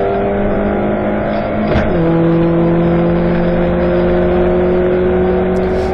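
Stock hatch race cars at Silverstone roar steadily at high revs, a sustained loud engine drone with a pitch drop as one car passes close by.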